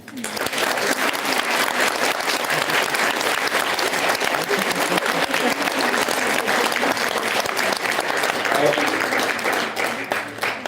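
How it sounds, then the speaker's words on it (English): Sustained audience applause at a handover ceremony for the VELC payload of the Aditya-L1 space mission, loud and steady for about ten seconds with a faint voice briefly under the clapping. "the clap should be as high as his personality, please"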